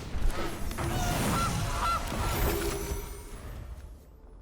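A goose honks loudly in the MTG Arena video game, giving a couple of nasal, brassy calls that fade out at the end.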